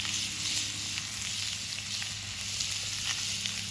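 Turkey breast slices sizzle steadily in a Dutch oven over an open fire, a continuous close crackling hiss with faint pops and no talking.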